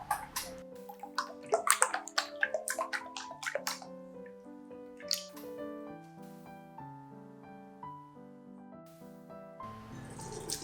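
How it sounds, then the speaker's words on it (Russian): Water from boiled potatoes is poured off in a splashing, gushing burst at the start, then thins out to faint drips while gentle melodic music plays throughout. "Сливаем воду с картошки."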